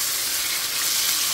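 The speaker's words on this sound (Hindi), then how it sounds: "जो बाकी के 2 पीसेस हैं उनको कुक कर लेते हैं।" Beef steak pieces frying in butter with garlic in a pan, a continuous loud, close sizzle with no talk.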